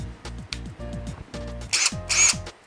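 A Takagi cordless brushed impact wrench, rated for 200 N·m, hammers in rapid repeated bursts, with a harsher, louder high-pitched rattle toward the end.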